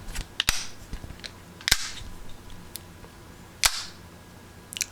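The legs of a Steadicam AIR Spreader 3-leg monopod base fold up with sharp mechanical clicks and snaps. A few loud, separate clacks stand out over faint handling rustle, close up and with no speech.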